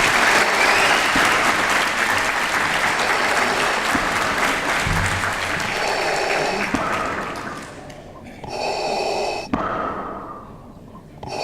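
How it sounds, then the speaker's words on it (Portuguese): Sustained audience applause at a game conference in Lisbon, loud and dense clapping from a crowd that continues for several seconds, thins briefly, then swells again before tapering off. "Faz favor uma salva de palmas para o nosso Lord."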